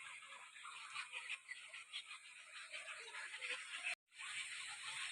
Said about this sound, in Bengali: দেখুন যে পাখিগুলো কিচিরমিচির করছে